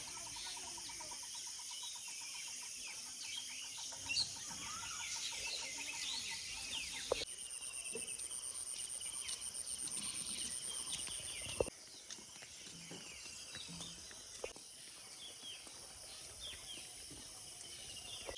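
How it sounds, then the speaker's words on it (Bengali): Birds chirp and call from all around in the open morning air, with a rooster-like cluck now and then over a steady outdoor hum. "চারিদিকে পাখি ডাকছে।"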